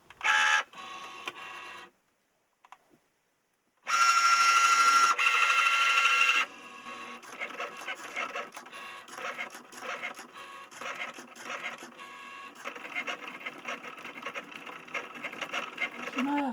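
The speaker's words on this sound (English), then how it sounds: "So over to the Cricut machine now and we'll get cutting." A Cricut digital cutting machine cuts card flower shapes for a Valentine's Day card, giving a loud, steady mechanical whir in two bursts with a pause between, followed by quieter, continuous motor movement and rattling.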